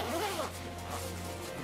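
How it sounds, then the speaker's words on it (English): A YKK zip on the pocket of an Arc'teryx Nuclei Hoody jacket rasps briefly, with a close, soft scratchy pull under a low steady hum. "Yeah, they're YKK zips, which is awesome. They open and close pretty good."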